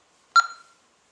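A Honeywell Vista alarm keypad gives a single short, clear electronic beep as a button is pressed, followed by silence.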